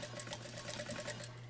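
A sewing machine stitching a throw pillow seam runs in a fast, even mechanical rattle of needle strokes, close and steady for a brief stretch with no talking.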